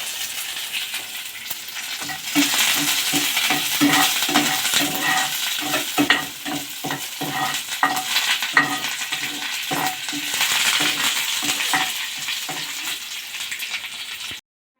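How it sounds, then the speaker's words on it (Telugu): Two dried red chillies and curry leaves frying in oil in a pan, a crackling sizzle with rapid scrapes and clinks as a spoon stirs, close and steady until it cuts off at the end. "ఒక రెండు ఎండుమిరపకాయలు కొంచెం కరివేపాకు వేసుకొని వేయించుకోవాలి"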